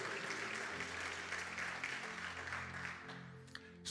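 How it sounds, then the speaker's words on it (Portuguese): A church congregation at a family worship service claps together, a sustained patter of hands that fades toward the end, with a faint low musical drone underneath. "Você pode aplaudir o Senhor?"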